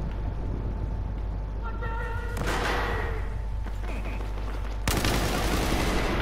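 Gunfire from a gun in the video game Battlefield 4, with rapid automatic bursts over loud continuous battlefield noise and a heavy blast near the end.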